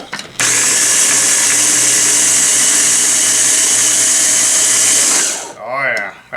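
A small food processor whirs through chuck roast recipe ingredients in one steady, loud, high-pitched motor burst of about five seconds, then cuts off abruptly. A brief voice follows at the end.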